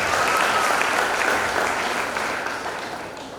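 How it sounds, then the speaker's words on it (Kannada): An audience at a Christian worship gathering claps steadily to welcome a preacher, a dense burst of applause that slowly fades over a few seconds. "ಅವರ ಚಪ್ಪಾಳೆ ತಟ್ಟಿ ಮತ್ತು ದೊರೆತಾಗಿ ಸ್ವಾಗತ"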